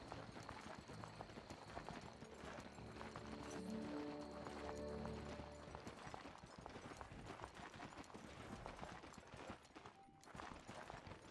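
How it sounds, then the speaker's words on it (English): Steady clip-clopping hoofsteps of a robot horse ridden through an area in the Biomutant video game, a continuous fast rhythm at low volume over ambient game sound. "We just went and got the robot horse."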